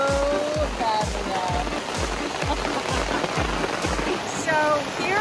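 Heavy downpour drumming steadily on a camper awning, a dense continuous hiss with dripping and splashing throughout, loud and close, with repeated low thumps and a few faint vehicle sounds in the background.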